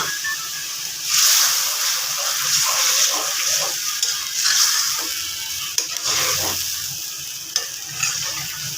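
Fried shrimp stirred and sautéed in a pan with a little added water, a continuous sizzle with repeated scraping strokes and a few sharp clinks of the spoon against the pan, close and loud.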